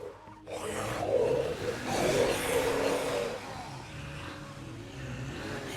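A car in State of Decay 2 revs and surges loudly as it reverses over a crowd of zombies, the engine swelling twice before easing back to a steady idle rumble.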